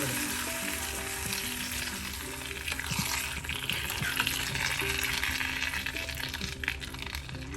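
Tapioca being stirred with fried mustard seeds in a sizzling pan: spoon scrapes and light clinks over a steady frying hiss, close up, with no talking.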